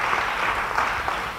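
A church congregation claps together in a dense, steady burst of applause, brief and moderately loud, filling the room without any voices on top.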